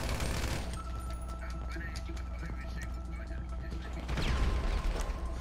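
Light machine gun fire in GTA V rattles in dense, sustained bursts under game sounds and a talking voice, swelling louder near the end.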